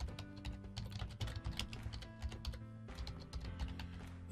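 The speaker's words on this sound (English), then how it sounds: "and I'll type in" Typing on a computer keyboard, with quick irregular clicks and keystrokes close by and soft, continuing for several seconds over a faint steady hum, with no voice.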